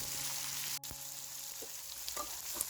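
Potatoes and tomatoes fry in a pan, giving a quiet, steady sizzle with a brief dip and a few soft crackles toward the end.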